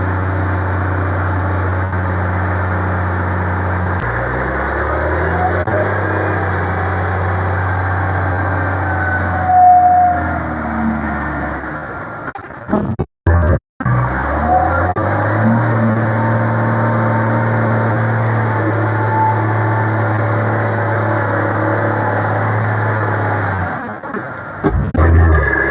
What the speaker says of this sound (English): I just drive around on top of the sand